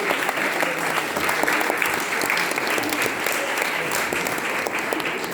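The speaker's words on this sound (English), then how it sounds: "a big round of applause" Sustained applause from an audience at the close of the National Windrush Museum distinguished lecture, a dense, even wash of many hands clapping throughout, fairly close and loud.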